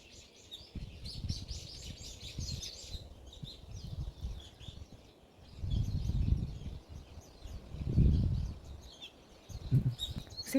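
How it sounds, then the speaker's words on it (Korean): Birds sing in Seogwipo Healing Forest on Jeju, giving soft scattered chirps and tweets throughout, with a low gusting rumble of wind that swells and fades beneath them; the scene is faint and outdoors with no speech. "새소리가 너무 좋습니다. 한번 들어보세요."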